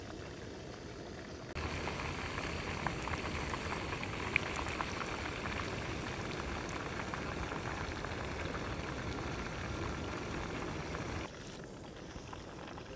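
Leopard fish frying in a pan, a steady dense sizzle that holds evenly for several seconds, louder after the start and dropping slightly near the end, with no talk over it.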